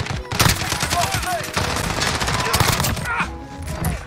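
Rapid, loud automatic fire from an FN SCAR 17 rifle in Modern Warfare, bursts of close shots rattling almost continuously, with a voice talking over the shooting.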